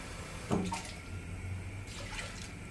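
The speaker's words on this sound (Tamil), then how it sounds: "இதில் ஒரு 3 கப்புக்கு தண்ணி சேர்த்துக்கிறேன்." Water is poured into rice to make porridge, a brief, faint splash and gurgle of liquid over a quiet background.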